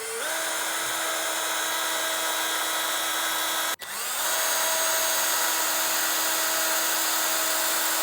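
A power drill fitted with a small bit whirs at a steady, high-pitched speed up close, briefly cutting out just before the midpoint, then spinning back up and running on evenly.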